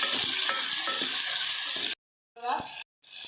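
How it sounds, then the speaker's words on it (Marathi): Halved, finely chopped tomato sautéed in hot oil for a spiced toor dal amti, a loud close sizzle with stirring that cuts off abruptly, then returns in short bursts. "आता टमाट्यानं चांगलं परतवून घ्यायचं"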